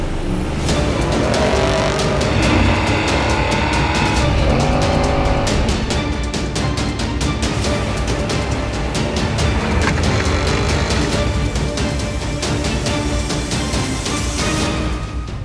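Off-road race trucks at the Baja 1000 roar past at high revs, loud and continuous, with engines surging and fading as the vehicles pass close by.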